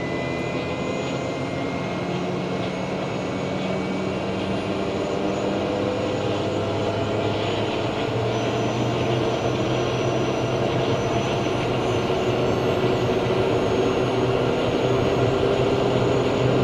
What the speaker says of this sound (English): we'll introduce the fuel to low idle. Now we're watching for a light off, watching the ITT for hot starts, NG for hung starts